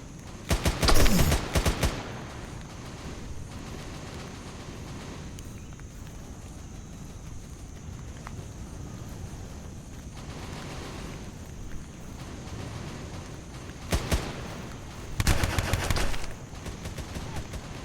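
Gunfire in a Vietnam War video game, with loud bursts of rapid shots near the start and again near the end, and a quieter stretch of low ambient rumble between them.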